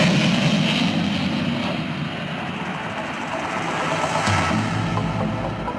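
A Hellenic Air Force F-16 fighter jet carrying conformal fuel tanks flies an air show display, its engine a loud, sustained roar that swells and fades slightly, heard alone without talking.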